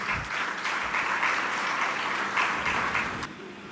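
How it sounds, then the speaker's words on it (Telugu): Church congregation clapping in praise during a Telugu sermon service, a dense, steady wash of many hands throughout, fairly loud, tapering slightly at the end. "చప్పట్లు కొట్టి దేవునికి స్తుతిద్దాం."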